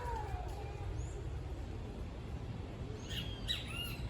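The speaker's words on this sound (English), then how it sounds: "If you listen closely, you can hear there's this bird nearby who goes like" A bird calls nearby in a forest during a hike: a thin whistle early on, then a quick cluster of sharp chirps near the end, fairly faint over a low, steady outdoor rumble.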